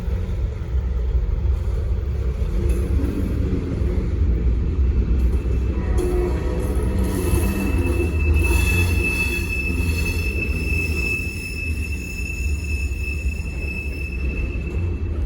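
Norfolk Southern freight train rolling through downtown Spartanburg, its wheels squealing with a steady high screech over a loud continuous rumble of railcars passing close by.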